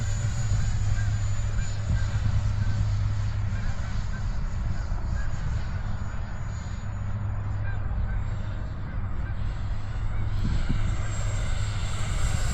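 A 64mm electric ducted-fan model jet flies in twilight, its steady turbine-like whine holding loud and continuous throughout, with a low rumble underneath and no break in the engine tone.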